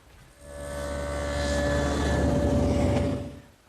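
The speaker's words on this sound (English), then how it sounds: "I've set up my table saw with a dado head cutter for a 3/4 inch width and a 1/4 inch depth." A table saw fitted with a dado head cutter cuts 3/4-inch-wide, 1/4-inch-deep dados across a panel for a Shaker tall chest: a humming motor with steady tonal whine swells into one sustained cut, then fades.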